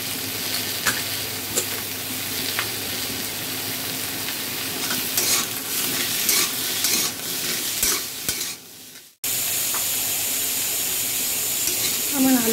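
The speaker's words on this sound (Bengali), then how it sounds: "পেঁয়াজ এখন আলুগুলো দিয়ে দেব, ভেজে নেব আলু" Potatoes and onion, with a pinch of sugar and turmeric, fry in a pan for a Bengali green jackfruit and shrimp curry. A steady close sizzle runs under stirring scrapes, breaks off briefly near the end, then resumes.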